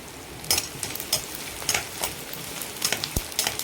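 Edible gum (dink) roasting in a pan for date and dry fruit laddoos, a soft close sizzle and crackle with brief scraping stirs and a few sharp taps of a spoon against the pan.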